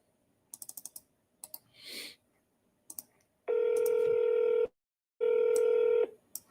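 Telephone dialing on a call line: two bursts of sustained dial tone, each about a second long, follow a quick series of keypad button presses.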